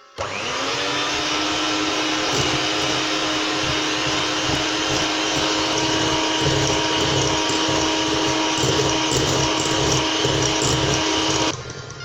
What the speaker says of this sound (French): Je commence par travailler les œufs avec le sucre et la vanille au batteur électrique pendant 2